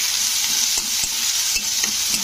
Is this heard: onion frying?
yes